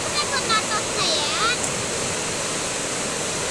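Rushing water surges and churns with force as a flow reverses back on itself, a loud, steady broadband roar close by with brief faint tonal chirps over it.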